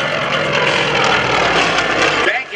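Aerobatic airplane flying at a military open house air show, a loud, continuous engine and propeller drone passing nearby, steady and then easing off at the end as it banks away.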